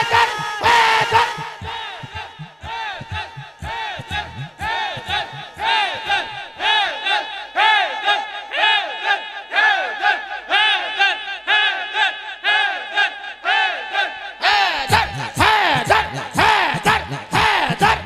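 A large crowd in a tent chants "Haider" loudly and rhythmically in unison, the repeated shouted phrase filling the enclosed space, continuing with only a brief dip midway.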